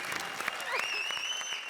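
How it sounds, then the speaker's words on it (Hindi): Studio audience applause on a comedy show, a short burst of clapping under a sliding whistle-like tone and some background voices. "जोरदार तालियां जरा अर्चना जी के लिए"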